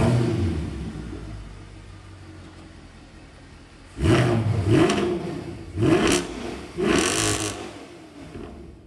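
Mercedes E63 AMG with a stage 1 tune, X-pipe and secondary decat exhaust revving in three loud, sharp bursts after a quieter idle rumble, each blip rising and falling quickly.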